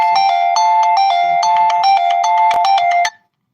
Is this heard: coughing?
no